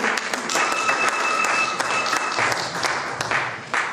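Applause from a church congregation during a special Sunday Christmas Eve service, a dense sustained wash of many hands clapping for the full stretch, loud and close, with no speech over it.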